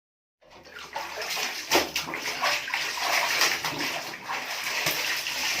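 Laundry rinsed by hand in a basin of water, with continuous sloshing and splashing that starts abruptly and stays close and fairly loud, with no talking.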